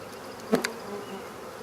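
A single bee buzzes briefly close by during a spring beehive inspection, a short loud zip against a faint quiet background.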